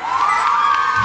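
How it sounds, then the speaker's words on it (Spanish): A crowd cheers and shouts at a surprise dance performance, with children's high whoops in a dense, loud burst of excited noise. "¿qué pasó con ese aplauso?"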